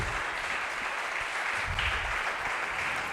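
A church congregation applauds together at a Wednesday faith service, giving a steady sustained clapping that fills the room for the whole stretch, with no speech over it.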